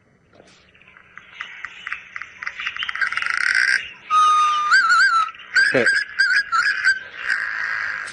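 A person's imitated bird call playing back on safari in the African bush, a series of whistled trills and sharp chirps rising in intensity, with a brief word spoken at the start.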